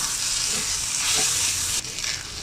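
Boiled potato mixture sizzles steadily as it is stirred and fried in a pan, a close, continuous crackling hiss with soft scraping strokes and no talking.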